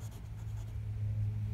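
A fountain pen nib scratches across paper in a short, steady, close-up stroke, soft and continuous with no talk.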